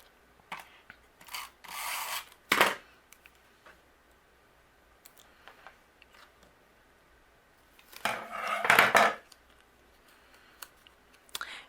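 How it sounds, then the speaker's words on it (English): A craft paper strip of 1/4 inch Pure Poppy cardstock trimmed at the ends on a handmade greeting card, giving a few brief close snips and scrapes in two clusters separated by quiet. "and then I'm going to trim off the edges"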